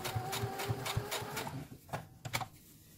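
Sewing machine stitching across folds on a cotton mask, a brief run of quick, regular needle thumps that slows and stops halfway, faint and close.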